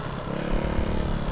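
A Yeti snowbike's engine revs under throttle on a mountain ride, a loud, close, rough motor roar holding steady for a moment.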